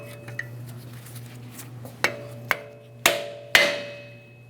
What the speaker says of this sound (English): I'm going to try to tap this out from the outboard side